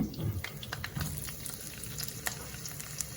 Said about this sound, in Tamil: முருங்கைக்காயை கொஞ்சம் போட்டு முதல் அதை இந்த எண்ணெயில் வதங்க விடுவோம்